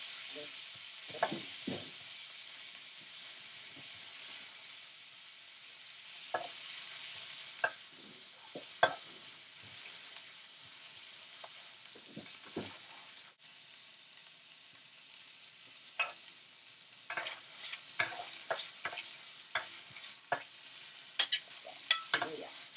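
Onion and garlic sautéing in a pan for Filipino pakbet, a quiet steady sizzle punctuated by sharp scrapes and clinks of a utensil stirring against the pan, with no talking.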